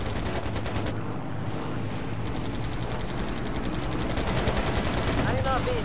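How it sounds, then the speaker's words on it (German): Rapid gunfire bursts rattle through an aerial combat scene in the video game Air Conflicts Pacific Carriers, dense continuous machine-gun fire over engine drone, fairly loud throughout. "Werde beschossen."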